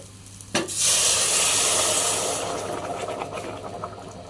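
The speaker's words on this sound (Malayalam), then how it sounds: "നമ്മൾ തിളപ്പിച്ച പാൽ ഇതിലൊഴിച്ച് അരി വേവിക്കുക" Boiled milk is poured into a pot of cooking rice for payasam: a sudden loud rushing hiss that slowly fades into a gentle simmering bubble.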